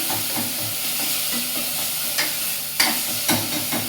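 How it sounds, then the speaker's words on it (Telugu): Tomatoes being pressed and mashed in a shallow layer of oil while they fry, a steady broadband sizzle with soft scraping strokes and a few sharper utensil knocks toward the end, close and continuous without any voices. "ఇలా మనం టమాటోని ఇలా స్మాష్ చేసుకుంటూ ఫ్రై చేసుకుంటే తొందరగా ఫ్రై అవుతుంది"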